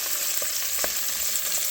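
Sausages browning in a frying pan, giving a steady close sizzle with light crackles and one brief louder pop as they are turned.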